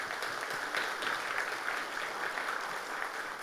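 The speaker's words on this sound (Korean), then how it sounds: "크게 청년회를 위해서 한번 크게 박수로 격려하십시오" Church congregation claps steadily in a sustained round of applause for the youth group during a Sunday service, fairly distant and even, with no talking over it.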